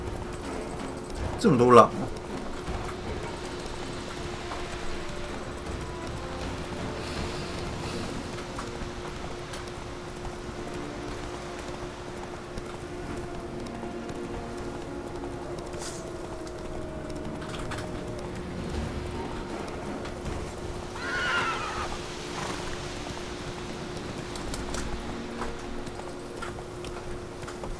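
The horse Roach gallops in The Witcher 3: Wild Hunt with a steady, continuous clip-clop of hooves. The hoofbeats run beneath ambient game sounds while a voice talks over them, and a brief loud knock comes near the start.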